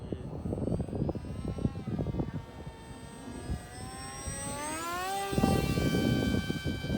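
An RC plane's small engine whines at full throttle in flight, its pitch rising steadily over several seconds, moderately loud over outdoor wind noise, with no voices.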